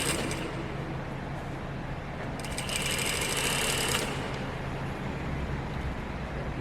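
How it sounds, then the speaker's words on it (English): Close and steady, a sewing machine runs a stay stitch along the edge of a pair of elastic-waist pants, its motor humming continuously with a brighter stretch partway through. "we are just doing a stay stitch"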